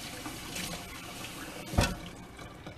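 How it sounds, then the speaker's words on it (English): Kitchen tap water runs steadily into a sink while a netted dishcloth with stuck-on dough is rinsed out, with a brief louder splash near the middle. "Now I can just rinse it out."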